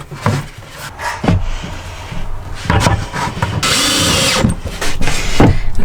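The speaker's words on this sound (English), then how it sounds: "Okay, so now I'm going to drill that hole all the way through" A power drill bores a hole all the way through wood inside a short school bus being converted, revving in loud bursts with grinding bite and a sustained whine near the middle, close to the microphone.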